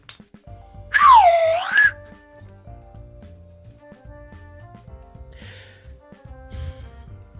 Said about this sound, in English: A gently used slide whistle.